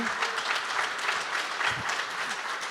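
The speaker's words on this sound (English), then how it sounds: "Wow, I think that got more applause than even the tax policy announced earlier." An audience at a fireside chat event with independent presidential candidate Robert F. Kennedy Jr. claps in sustained, even applause that stays loud and unbroken from start to finish.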